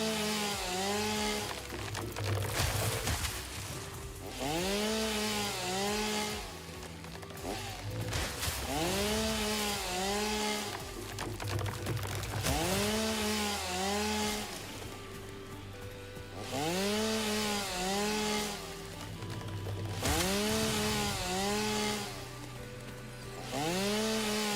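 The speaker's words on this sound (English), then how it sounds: "Chainsaw!" A chainsaw in the video game Satisfactory runs in repeated bursts, revving up and dropping back in a steady cycle, loud and close with no talk over it.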